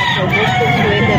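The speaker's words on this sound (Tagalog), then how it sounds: "Ganda ng mga manok eh." A rooster crowing among fighting cocks for sale, a short loud call heard close over a busy background of other birds and murmuring voices.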